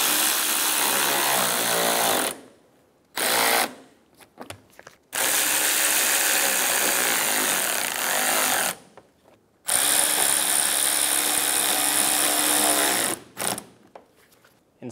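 A power screwdriver drives screws into the plastic fender liner of a Chevrolet Sonic, each burst a loud, steady whirring run of a few seconds with short pauses in between.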